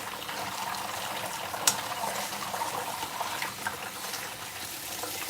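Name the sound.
rinsing cooked somen noodles with cold tap water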